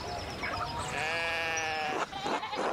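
Sheep bleat on a farm in the video game Pentiment, one long wavering bleat ringing out close and loud over a steady ambient bed, with shorter calls breaking through near the end.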